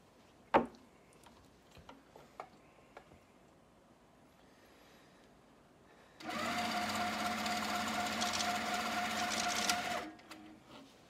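A mid-arm quilting machine stitches across a quilt, starting with a few sparse ticks and clicks and then breaking into about four seconds of loud, steady, rapid mechanical whirring before it stops.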